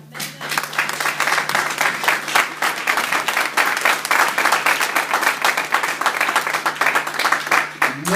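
A church congregation claps and applauds loudly and steadily throughout, with dense overlapping hand claps and a low sustained tone underneath.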